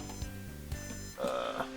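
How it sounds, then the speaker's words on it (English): Alarm clock going off, a repeating electronic tone pattern with short beeps and a brighter chiming burst toward the end, over faint background sound. "my alarm went off for some reason"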